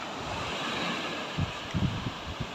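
Wind gusts across an open city plaza, a steady, fairly faint rushing hiss with a few buffeting thumps against the microphone in the second half, and no voices.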